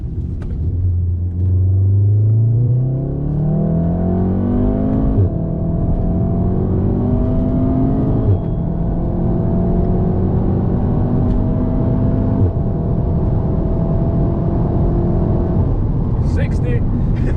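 A VW Golf R mk7 launches hard and accelerates, its engine note climbing steadily through the revs with a brief shift break and loud continuous rumble close by, while a person talks over it.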